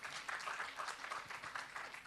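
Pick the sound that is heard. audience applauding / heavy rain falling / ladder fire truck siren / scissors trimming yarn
audience applauding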